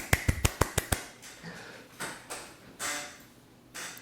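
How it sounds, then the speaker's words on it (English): Several sharp hand claps in a quick burst near the start of a small workshop celebration as a chip bring-up succeeds, followed by quieter rustling and faint background movement. "Let me clap."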